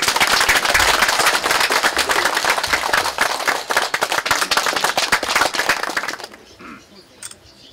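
Loud, dense applause fills a hall at a clan association's annual general meeting as the chairman is welcomed, steady for about six seconds before dropping away to a quiet room with a few stray claps.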